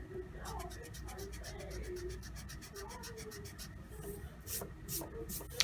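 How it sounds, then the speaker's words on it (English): A pencil drawing on paper is erased with quick rhythmic back-and-forth rubs, soft scratchy strokes in a steady pulse, with a voice speaking quietly over them. "So now I can erase these lines."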